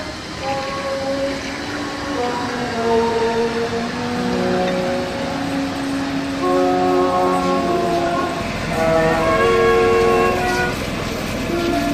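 An SNCF CC-type electric locomotive runs on the electrified Valenciennes–Thionville line, its horn sounding in sustained tonal blasts over a steady rolling rumble, loud and close throughout.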